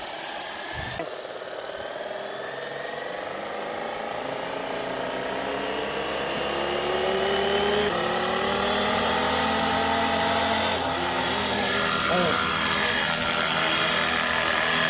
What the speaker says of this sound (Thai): โอ้โหครับคุณผู้ชมครับบินนี่จริงๆฮะกับฮิวอี้นะฮะ